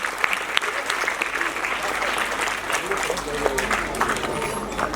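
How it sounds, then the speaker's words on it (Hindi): Audience applause at an annual function of a foundation, welcoming guests: steady, dense clapping from a sizable crowd across the whole stretch, with murmured voices faintly underneath. "तालियों के साथ इन सबका स्वागत कीजिए।"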